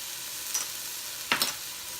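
Garlic and vegetables sizzle softly in a pan over a steady low frying hiss, with two brief louder crackles or stirring scrapes rising midway.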